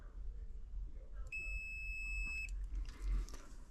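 A single steady electronic multimeter continuity beep lasting about a second, clear and close, over quiet room noise.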